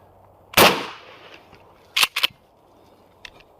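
A shotgun fires a single Hornady Critical Defense buckshot round with a sharp, loud blast and a decaying tail, then a few quick metallic clacks follow, like the action being worked.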